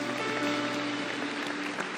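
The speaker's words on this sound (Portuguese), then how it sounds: "Você pode aplaudir o Senhor por isso?" Church congregation applauding together, a dense steady wash of clapping that fills the space for the whole moment, with no voices over it.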